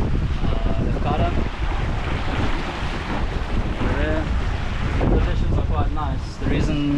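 Strong wind buffets the microphone aboard a sailing catamaran, roaring steadily with gusty surges over water rush while people talk intermittently beneath it.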